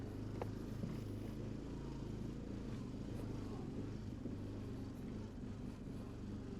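A Honda Foreman 500 ATV with a freshly rebuilt engine rides a trail loop, its engine a close, constant low rumble that holds steady throughout with no talking.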